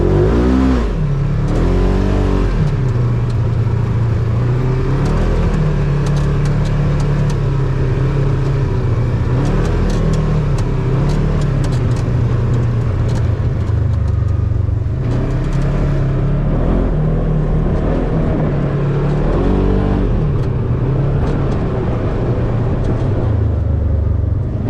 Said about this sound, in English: we were in a Polaris Razor 1000 XP. Let's see if I can wreck it.